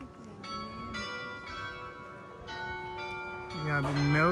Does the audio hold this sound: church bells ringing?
yes